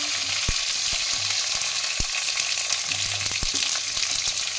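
Mustard seeds, white mustard and raw tomato frying in hot oil in a pan with a dried red chilli tempering, the start of a dal: a steady loud sizzle with scattered sharp pops and spatters.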